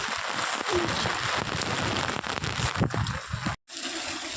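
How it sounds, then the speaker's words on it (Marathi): Heavy rain pours down outdoors in a steady, dense hiss that fills the whole stretch, close and loud, briefly cutting out near the end before resuming. "हा पाऊस जाऊ दे मित्रांनो, खूप मोठा बाहेर"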